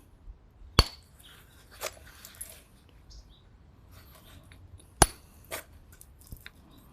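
Molded glass being knapped, with a hard striker knocking flakes of fake cortex off a rock-like piece: a handful of sharp, isolated clicks and cracks spaced over several seconds, close and fairly crisp, with quiet handling noise between and no talking.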